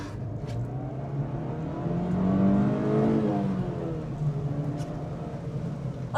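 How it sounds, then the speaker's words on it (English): Engine of a 1997 Acura EL revving up into VTEC while driving, a steady droning hum that swells to a louder rising peak midway and then settles back, heard from inside the car with no talking. "I'll give us some VTEC."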